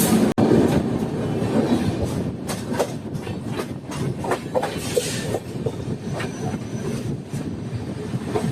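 Inside a 3AC coach of a moving Indian passenger train, a continuous rumbling rattle carries rhythmic clickety-clack of wheels over rail joints, with occasional sharp clanks and faint squeals, loud and close, no talk.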